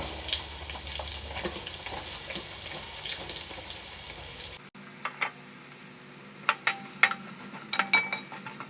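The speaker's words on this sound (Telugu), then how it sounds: "ఆయిల్ హీట్ అయ్యాక మనం ఇందాక కట్ చేసి పెట్టుకున్న ఆనియన్ వేసుకోండి." Chopped onion in a pan of hot oil hisses and sizzles steadily at first, then drops to a quieter stretch broken by a few clattering knocks and scrapes of stirring, with no talking.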